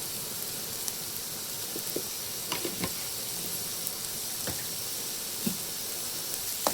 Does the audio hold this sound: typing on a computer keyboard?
no